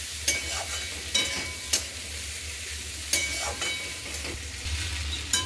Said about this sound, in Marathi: शेंगा छान मसाल्यामध्ये परतल्या गेलेल्या आहेत।